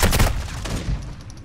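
Rapid bursts of gunfire from a Call of Duty game crackle loudly in a short fusillade, fading out after about a second.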